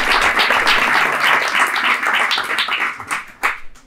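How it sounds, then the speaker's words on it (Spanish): An audience at a Python meetup bursts into loud, dense applause for a departing speaker, sustained clapping that thins out toward the end. "Un aplauso."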